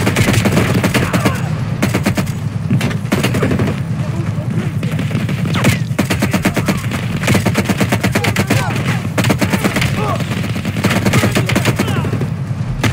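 A light machine gun in Call of Duty Cold War fires rapid, sustained bursts close by. The dense chatter of shots barely pauses, with occasional louder impacts layered over it.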